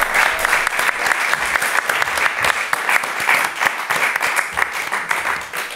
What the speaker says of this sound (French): On va laisser sortir Marion sous vos applaudissements, cher public.